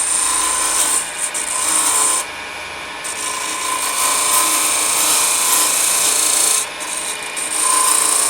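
A skew turning tool scrapes and cuts a small wooden box on a lathe, a loud, close, steady rasping whine that drops briefly at a couple of points as the tool lifts off, with no talking.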